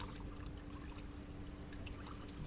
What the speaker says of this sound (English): Now I'm going to use the coolant,